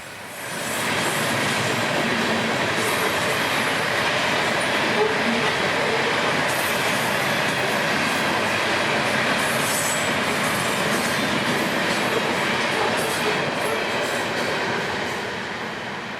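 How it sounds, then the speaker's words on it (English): A freight train rolls past on the S-Line at Briceville, a loud, steady rumble of wheels and rail cars with faint squeals, sustained for the whole pass before easing slightly at the end. "the train would arrive up here in beautiful morning light amidst the small fleet of southbounds who we'd wait for at Briceville"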